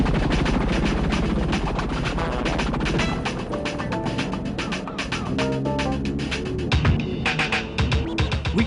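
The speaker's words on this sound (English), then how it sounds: "I'll track them with my chopper." A helicopter flies close by, its rotor chopping in a loud, rapid, continuous beat with sharp crackling bursts mixed in.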